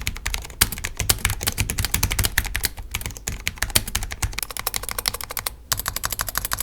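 Rapid, steady typing on a Cooler Master tenkeyless low-profile keyboard with Cherry MX Red switches and flat chiclet keycaps, keys bottoming out hard in a dense, continuous clatter with a few brief pauses, close and clear.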